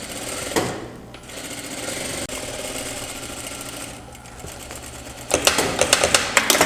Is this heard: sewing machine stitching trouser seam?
yes